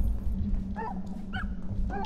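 A puppy fairy character in the video game Wandersong gives a few short, high yipping barks over a steady background music bed.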